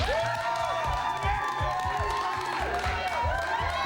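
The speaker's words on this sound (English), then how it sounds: "All right, crowd, go crazy." Crowd cheering at a New Orleans Saints football game, a loud continuous mass of shouts, whoops and scattered clapping with overlapping voices rising and falling throughout.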